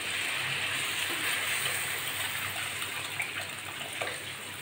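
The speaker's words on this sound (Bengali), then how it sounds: "এখন আমি জল দিয়ে দিচ্ছি।" Water pours steadily into a cooking pot for a Bengali tilapia fish curry with bottle gourd and potato, a continuous close splashing gush that runs the whole time with no talk.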